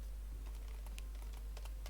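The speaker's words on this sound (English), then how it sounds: "if you know how fast I'm typing, it's just practice" Rapid typing on a computer keyboard while scripting in Roblox Studio, a quick run of light clicky keystrokes heard close up and alone, with no talking.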